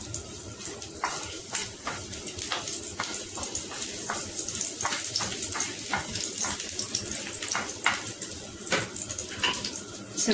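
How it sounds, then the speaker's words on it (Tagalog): Garlic fries in cooking oil in a pan, giving a steady crackling sizzle with frequent sharp pops and spatters, close and moderately loud throughout. "Fry muna natin ang garlic."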